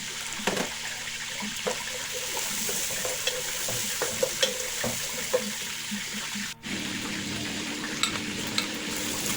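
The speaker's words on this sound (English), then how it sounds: "In a very, very hot pan, I added some vegetable oil and some" Onions frying in very hot vegetable oil in a pan, a steady loud sizzle that runs throughout, with scattered clicks and scrapes of stirring and a brief dip near the end.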